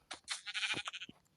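Sheep bleating in a video game: several short, bright bleats in quick succession, close and fairly loud, with no talk over them.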